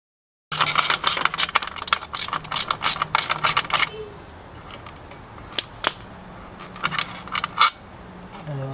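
A ratchet wrench spins out frame bolts on a Honda Ruckus scooter, giving dense rapid clicking bursts for several seconds, then a quieter stretch with a few isolated sharp clicks and metallic taps close by.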